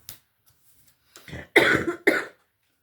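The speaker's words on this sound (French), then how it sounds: "Mais oui, ça tousse toujours." A few short, sharp coughs in a quiet room: one faint burst, then two louder coughs close together near the end.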